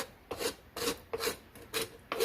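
Raspberries are scraped through a strainer to separate the seeds, making five even, rhythmic rasping strokes up close, each a short gritty rub, with no talk.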